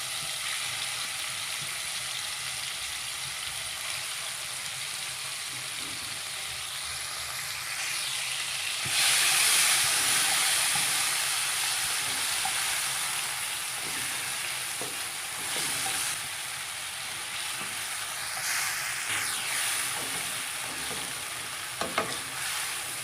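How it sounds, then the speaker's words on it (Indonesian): Steady, crackling sizzle of shrimp frying in hot oil, continuous and close, with occasional brief stirring clinks. "Ini saya goreng sebentar"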